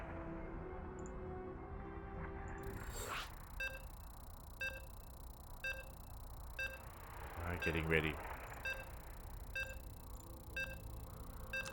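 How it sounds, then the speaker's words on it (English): A series of short, evenly spaced electronic beeps repeats in a StarCraft game lobby over a quiet background hum while a person speaks briefly. "And you can hear the beeps."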